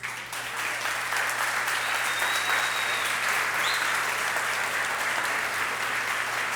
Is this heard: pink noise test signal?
no